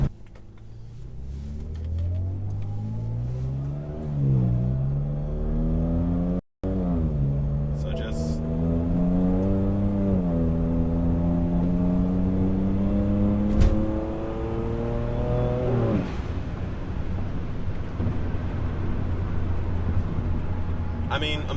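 A BMW N54 engine running an MHD v9 beta map misfires under acceleration, its close, steady drone climbing and dipping in pitch with a few brief sharp pops as the revs rise and fall.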